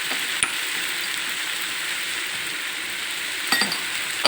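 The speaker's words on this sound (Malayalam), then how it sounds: "നന്നായിട്ട് എണ്ണയിൽ വഴറ്റണം." Onion, ginger, chilli, tomato and capsicum sauté in oil for paneer mutter masala, making a steady quiet sizzle, with a couple of sharp utensil clinks against the pan near the start and again later.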